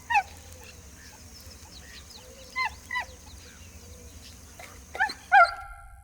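A dog barks outdoors in several short, sharp bursts spread over a few seconds, fairly close, over a low background hum.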